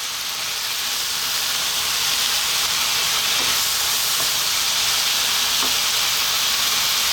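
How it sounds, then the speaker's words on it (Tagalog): Chicken stir-fried with bell pepper and soft vegetables in a pan gives a steady, loud sizzle and hiss with light stirring, close up and with no talking. "ilalagay na po natin yung ating malambot na vegetable, ang bell pepper, at ang stir fry natin kanina na chicken. So mix lang natin."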